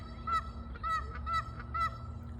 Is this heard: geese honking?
yes